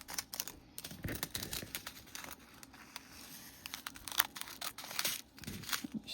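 Scissors snip apart a Dollar Tree diamond dot painting sheet, making close, crisp, crinkly cuts and rustles in quick, irregular bursts at a low level.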